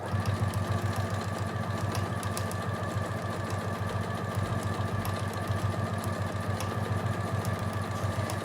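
A sewing machine stitches quilt blocks with a fast, steady mechanical whir and rhythmic needle clatter, continuous and close throughout.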